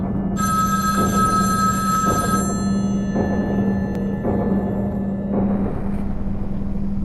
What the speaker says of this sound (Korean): 이번엔 그로부터 전화가 걸려옵니다